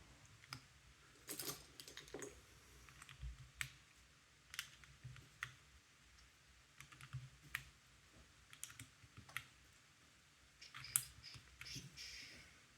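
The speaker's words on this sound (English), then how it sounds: "All you just gotta do is put your keycaps on." Keycaps snapping onto a mechanical keyboard during a De_Vision build: quiet, irregular sharp clicks and taps, close by, spaced unevenly across the stretch with soft handling noise between.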